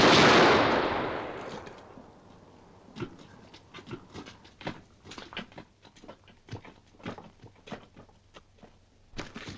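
A firing squad volley bursts out at the start, loud and sharp, then fades into a scatter of lighter irregular cracks and taps that continue quietly to the end.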